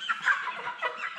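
Soft, repeated clucking from a Cobb 500 broiler cockerel close by, short bursts in a loose rhythm with no talking.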